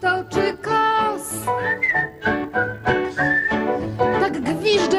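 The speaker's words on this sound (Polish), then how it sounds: "Tak gwiżdże każdy chłopiec." Crowd whistling at a live show: many people whistle a bouncy tune together in bursts, with rising and falling slides, loud and near, pausing briefly between phrases.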